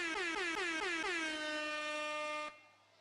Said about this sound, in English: Let's give Chris a little air horn here